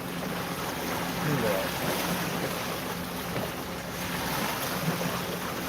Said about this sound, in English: now we got the other barge about to pass through here